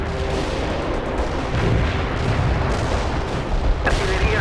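Artillery barrage in the combat video game World in Conflict, a dense continuous rumble of distant booms and gunfire rolling on throughout, with a sharper blast near the end and faint voices beneath.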